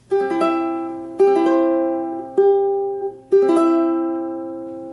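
A ukulele strums four ringing chords of a song's chorus, each struck crisply and left to decay before the next, clear and close with no talking.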